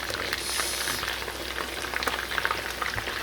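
Chicken frying in hot oil for chili garlic chicken, a steady close sizzle with scattered crackles and pops and a brief stir, no voices.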